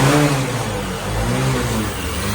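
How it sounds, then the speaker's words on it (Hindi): A Honda Shine motorcycle engine is throttled hard, rising and falling in two loud revving surges close to the listener, without any talk. "यह है क्विक थ्रोटल, मैं लेता हूँ फुल थ्रोटल।"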